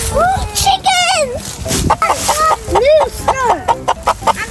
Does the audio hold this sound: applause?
no